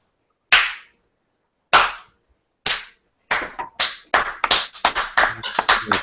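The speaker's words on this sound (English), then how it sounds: "Golf clap." A sparse, polite golf clap: a few slow, isolated claps spaced about a second apart, then quickening into a light patter of handclaps, close and crisp with no voices.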